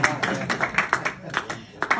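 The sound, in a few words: audience clapping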